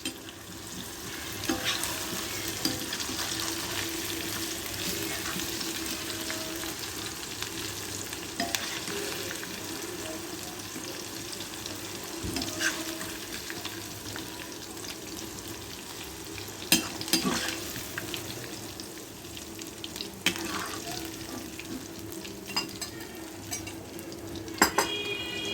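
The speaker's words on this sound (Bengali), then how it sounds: "বাকি ফুলকপি আলুগুলো ঠিক একই রকমভাবে ভেজে নিচ্ছি।" Cauliflower florets and potato pieces fry in a pan of oil with a steady, moderate sizzle up close, broken by intermittent metallic clinks and scrapes of a spatula stirring.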